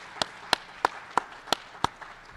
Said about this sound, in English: can we once again just give him a round of applause for doing a great job?